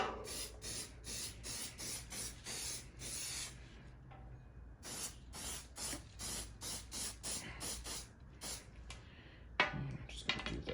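Leather protectant spray is misted onto an expensive leather bag in a rapid series of short, close hissing bursts, then a pause, then another run of quick sprays.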